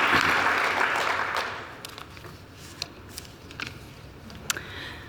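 Audience applause at a 75th anniversary program, loud and dense at first, then thinning out into a few scattered claps and taps that trail off.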